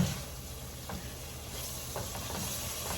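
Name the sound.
food sizzling while frying in a pan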